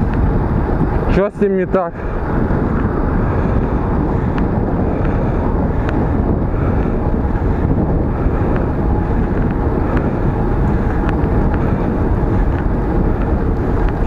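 Strong wind buffeting a clip-on microphone on a Firefly 8S action camera while riding, a loud, continuous rumbling roar throughout, with a short spoken question near the start.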